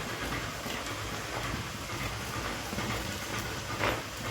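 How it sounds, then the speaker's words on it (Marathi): Chopped karatoli (spiny gourd) sautéing in a pan over low gas with finely chopped coriander and spices, giving a steady, dense, close hiss throughout with no talking. "आता हे छान परतले गेले आता यावर आपण हे चिरलेली करतुली घालून घेऊया"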